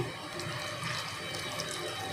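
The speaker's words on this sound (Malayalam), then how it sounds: "നമ്മൾ നേരത്തെ വിനാഗിരി വെള്ളവും കൂടി തിളപ്പിച്ച് ചൂടാറാൻ വെച്ചിരുന്നതാണ് ഇത് നമ്മൾ ഇതിലേക്ക് ഒഴിച്ചു കൊടുക്കുകയാണ്" Boiled, cooled vinegar water is poured into a jar of salted lemon pickle, a soft, steady splashing trickle that runs for about two seconds, close and fairly quiet with no talking.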